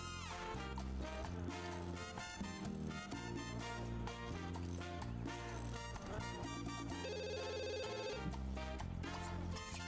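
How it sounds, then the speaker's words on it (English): Telephone ringing in The Sims 2 as a game call comes in, a repeating ring over continuous loud background music that carries through the whole stretch. "he's receiving a phone call"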